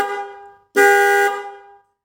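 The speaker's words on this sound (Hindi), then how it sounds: "इसलिए अभी आप इस हॉर्न की आवाज़ सुनेंगे ना," A scooter horn, rewired with thick wires and sounded with the scooter switched off, gives one loud, steady honk of about half a second, close and alone, following a fainter tone that fades out.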